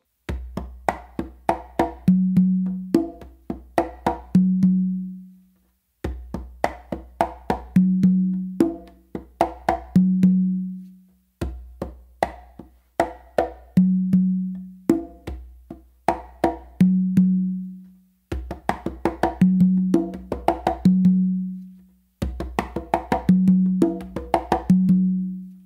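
A full songo pattern on two congas, with open tones on the tumba, plays in repeated phrases of sharp slaps and ringing drum tones, loud and close, with brief pauses between cycles.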